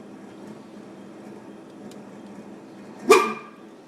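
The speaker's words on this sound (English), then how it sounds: "the compressor's making the noise, and it literally sounds like a dog barking." A freezer compressor gives one short, sharp bark-like yelp near the end, standing out above a quiet, steady mechanical hum.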